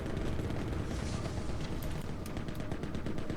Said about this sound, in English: Hearing a lot of explosions going off.